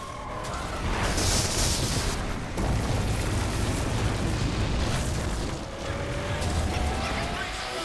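Cars exploding in the MotorStorm PS3 racing game, heard as several rumbling booms and bursts layered over continuous roaring engine and crash noise, dense and sustained throughout.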